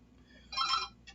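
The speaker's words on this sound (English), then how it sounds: "Oh, phone call." A telephone rings once in a bright trilling burst, followed by the brief start of a second ring, heard alone against a quiet room.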